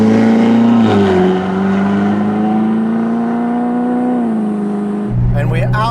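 A Ferrari engine drones loud and steady while cruising along Hout Bay Drive, a coastal road near Camps Bay, South Africa, its pitch rising briefly, then swelling again as it accelerates near the end.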